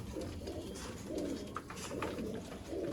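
Teddy pigeons coo in soft, low, repeated rolling phrases, fairly close, with faint ambient noise and a brief chirp in between, in Sialkot.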